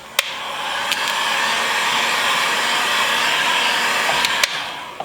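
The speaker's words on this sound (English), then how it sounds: "you can get the heat gun and take that out." A heat gun warms 3M brushed aluminum vinyl wrap on interior trim, a steady, close blowing roar bracketed by clicks as it switches on and off.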